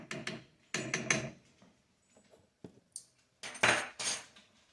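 Pilau spices stirred into beef and rice in a pot, loud metallic spoon clanks and scrapes in short bursts with quiet gaps between.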